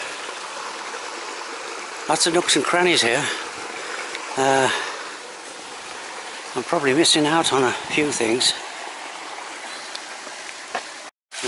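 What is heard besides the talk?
running water in Malaga Botanical Gardens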